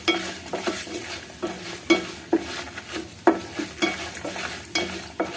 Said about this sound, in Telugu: ఎనిమిది ఎండు మిరపకాయలు వేయించుకుని